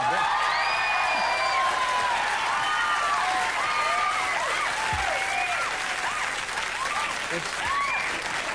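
A late-night television studio audience breaks into sustained, dense applause, loud and steady throughout, with scattered whoops and cheers rising out of the clapping.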